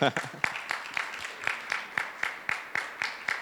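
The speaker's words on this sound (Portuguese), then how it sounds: "Olha lá, palmas para ela." Audience at a tech conference talk claps for a participant, a short burst of evenly paced claps from a small group, moderately loud and steady before trailing off.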